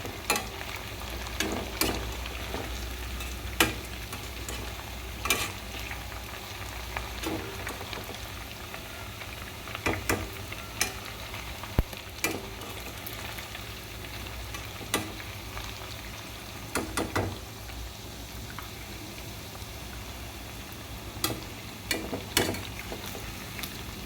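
Gobi fried rice with cauliflower sizzles and crackles steadily in a hot pan over a high flame, a dense continuous frying hiss broken by occasional sharper scrapes or stirring clicks, with no voices.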